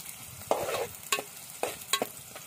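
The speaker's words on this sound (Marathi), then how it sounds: "इकडे कांदा तेलामध्ये फ्राय करून घेऊया व्यवस्थित" Onion frying in oil in a pan for a home-style cashew curry, with a soft steady sizzle broken by a few sharp scraping stirs of a spoon, close and alone without talk.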